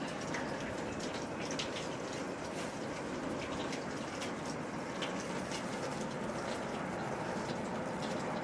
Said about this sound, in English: the snow that's been on the roof of the Aero Club melting and now running down the drain pipes